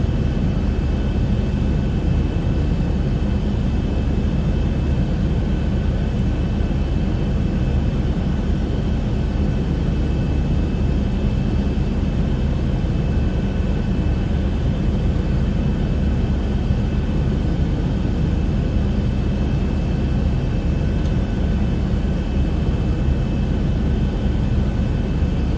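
Zibo Boeing 737 in X-Plane 11 on approach to London Heathrow produces a loud, steady jet engine roar with a constant whine, unbroken throughout and with no voices.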